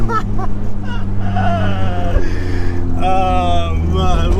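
A straight-piped Honda Civic EP3 Type R drones loudly from the cabin while driving, its raspy exhaust rising and falling through gear changes, with a voice briefly speaking over it.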